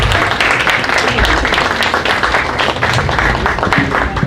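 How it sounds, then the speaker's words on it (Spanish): An audience at a deforestation forum applauds with dense, sustained clapping that stays steady throughout and is heard close by. "les ofrecemos un aplauso"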